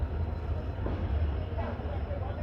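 A WDP 4D diesel locomotive hauls a train into Bathinda Junction in Punjab, a low continuous rumble with faint rolling noise and a voice murmuring over it.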